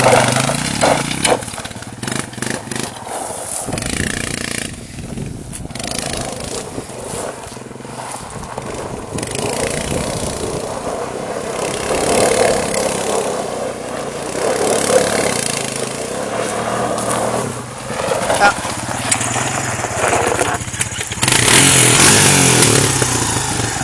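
An ATV engine running steadily while driving and turning around, a loud close mid-pitched drone with rising and falling revs throughout.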